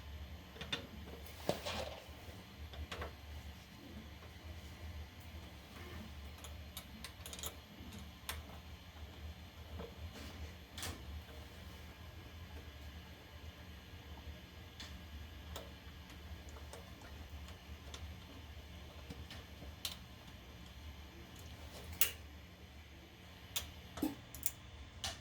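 Screws being driven down into the frame of an Eryone Thinker SE 3D printer during a Y-axis belt tensioner install. The result is faint, sparse ticks and clicks scattered over a quiet hum, close by, with no talk.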